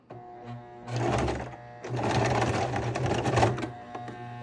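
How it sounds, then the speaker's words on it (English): A sewing machine running a zigzag stitch through stretchy fabric panels, two whirring bursts of rapid stitching separated by a short pause, close and clear with a faint hum between. "I am now going to attempt to sew these 2 panels together, and I'm using this really zigzaggy stitch"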